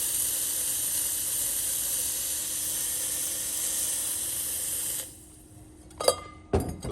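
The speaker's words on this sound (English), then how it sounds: "Nice strong steam." A loud, steady steam hiss blasts continuously from an Elektra Microcasa espresso machine steam wand for about five seconds, then cuts off, followed by a couple of sharp clicks and a brief sputter.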